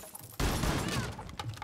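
Pistol shots ring out in the Rainbow Six Siege video game, a loud sudden burst followed by dense crackling echoes, close and sharp, with a few quieter shots trailing off.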